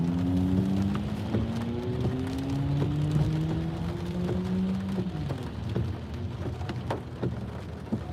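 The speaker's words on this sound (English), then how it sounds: "So maybe it's only raining today" Steady rain patters on a surface with a constant hiss while driving behind a tractor, an engine humming underneath; no one speaks.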